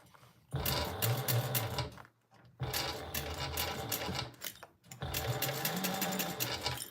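A sewing machine stitches a fabric baby sling in steady, fast runs of close mechanical whirring, pausing briefly twice between bursts.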